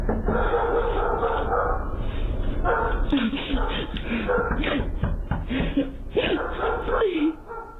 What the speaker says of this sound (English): There's dogs in the crib too.